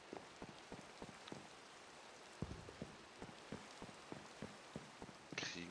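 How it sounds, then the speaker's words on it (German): Rain falling in Minecraft, a soft constant hiss of drops with repeated louder patters and taps landing on surfaces, steady and fairly quiet with no voices. "Und es regnet."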